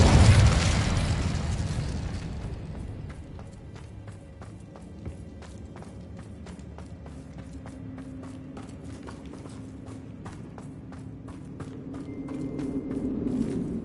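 An Incendio fire spell is cast in Hogwarts Legacy, opening with a loud whooshing burst that fades into a crackling, flickering burn with light rhythmic clicks and movement sounds.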